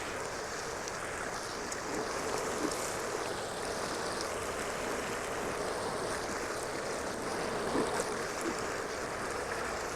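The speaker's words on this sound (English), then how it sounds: "Okay, so I'm going to turn all my jets on." Hot tub jets and water features run together, filling the tub with a steady, dense rush and churn of bubbling water that holds at an even level throughout, close to the listener and with no talking.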